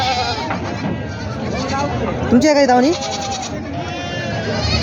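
Goats bleat at a busy goat market in Gangakhed, one loud wavering bleat standing out near the middle over steady crowd chatter and someone talking throughout.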